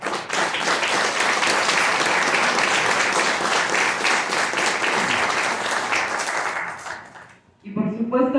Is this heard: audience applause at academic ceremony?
yes